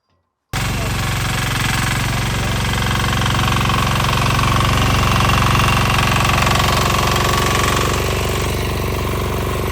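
A WEIMA 195 walk-behind tractor engine starts up after a brief silence and runs on in a loud, steady, close-up chugging rumble with a rapid knocking pulse during a field test.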